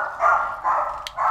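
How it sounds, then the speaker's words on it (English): A dog in a zombie shooter game barks three times in quick succession, loud and close, the yaps slightly drawn out, with a short sharp click between the last two. "My doggy."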